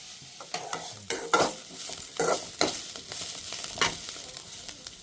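Cabbage palya fries in a pan while a spoon stirs it, giving repeated scraping strokes over a faint sizzle, close and fairly quiet.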